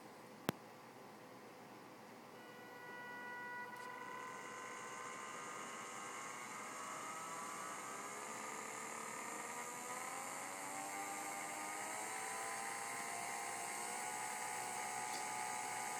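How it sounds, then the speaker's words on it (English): A 12V motor driven by an Arduino whines faintly after a click, its pitch sliding and rising gradually as it speeds up, a thin steady electric hum over a quiet background with no talking. "as I turn this knob, the motor starts to increase its speed"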